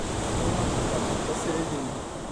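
Strong sea waves break on the shore at Simeiz, making a continuous loud rushing wash with no pauses and faint wind across the microphone.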